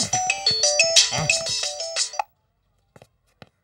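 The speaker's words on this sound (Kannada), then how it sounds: "Boss, ಅಚ್ಚಿಗೆ phone." A mobile phone rings with a bright, repeating electronic melody for about two seconds, loud and close, in a comedy scene from a Kannada film, followed by a few faint clicks.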